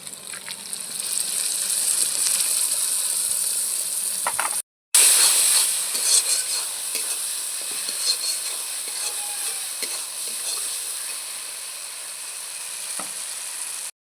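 Spice paste mixed with water hits fried spices in a hot pan for a spicy mutton kasha, setting off a loud, steady sizzle that briefly cuts out and then carries on with faint scraping of stirring.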